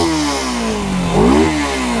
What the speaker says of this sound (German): Man hört aber also die Ansaugung oder den Vergaser hört man echt laut